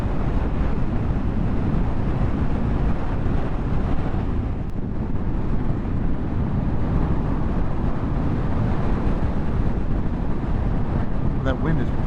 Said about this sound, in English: That wind really sucks.